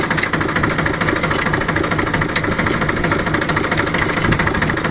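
A tractor engine idles loudly and steadily up close, a continuous rough, knocking rumble with no breaks and no voices.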